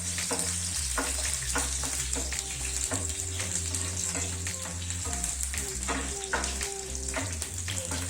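Garlic and ginger frying in oil in a pan for a Sri Lankan eggplant curry, a steady close sizzle and crackle with stirring, with background music running underneath.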